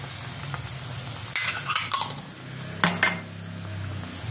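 Turmeric and chilli powder frying in a pan for Bengali crab curry, a steady sizzle with a few bursts of stirring and pan scraping, close and alone without talk.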